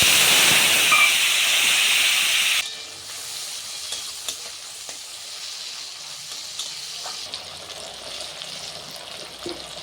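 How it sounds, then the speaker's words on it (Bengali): Tomato dropped into hot oil tempered with radhuni and black cumin gives a loud, dense sizzle for the first couple of seconds, then settles into a quieter steady crackle with a few light stirring clicks. "আমি ওই তেলের মধ্যে রাঁধুনি আর কালো জিরে ফোড়ন দিয়ে দিলাম। এবার টমেটোটা দিয়ে দিলাম।"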